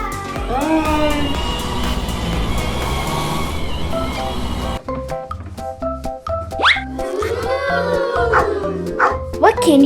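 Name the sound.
child imitating dog barking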